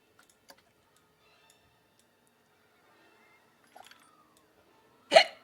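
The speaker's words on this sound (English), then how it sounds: "Oh, that was a hiccup." A single short hiccup bursts out near the end, louder than the few faint clicks and ticks scattered through an otherwise quiet stretch.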